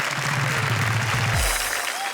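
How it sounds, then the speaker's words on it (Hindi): Hearty audience applause welcomes a guest poet onto a Hindi comedy poetry show stage, a dense, steady wash of clapping filling the whole stretch alongside a low musical sting. "हम जोरदार तालियों से स्वागत करें"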